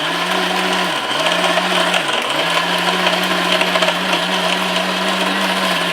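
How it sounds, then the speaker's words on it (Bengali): A Miyako electric blender grinding spices, its motor whirring loud and steady for several seconds, with brief pitch dips as the load shifts, no voices over it. "এরকম একটা ব্লেন্ডার থাকলে কিন্তু পাটায় বাটার কষ্টটা আপনার করতে হবে না"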